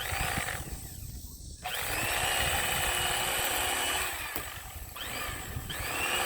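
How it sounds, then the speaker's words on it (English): Fish waste disposal at a fish cleaning station grinding up fish scraps, a loud continuous motorized grinding roar with brief dips and surges as pieces pass through, running throughout. "throw them in the disposal can here that grinds them up"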